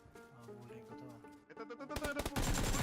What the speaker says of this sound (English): After a few tightly grouped shots to the abdomen,